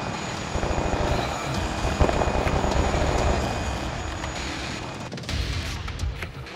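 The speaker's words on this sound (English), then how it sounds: "we see the helicopter" A helicopter in the military video game Arma 3 drones with a dense, steady rotor and turbine roar, loud and continuous, easing slightly near the end.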